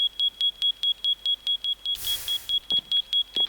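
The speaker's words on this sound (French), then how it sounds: "C'est une alarme à feu, à incendie." A fire alarm from a Minecraft furniture mod beeps in a fast, steady train of short, shrill tones, interrupted once by a brief hissing burst and a few soft knocks.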